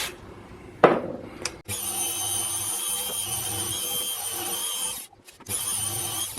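A drill boring a 4.3 mm hole into a metal workpiece for an M5 tap, one short knock, then a steady loud whine held for several seconds, a brief pause and the grinding resuming.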